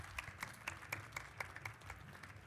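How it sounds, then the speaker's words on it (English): Audience applause at a live radiology AI podcast fireside chat at RSNA 2024: faint, sparse clapping from a small crowd with scattered individual claps in a steady uneven rhythm. "Let's give them one round of applause."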